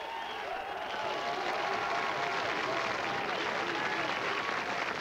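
A church audience at a 1992 televised Christian broadcast applauds and cheers, a dense steady wash of clapping held at an even level throughout.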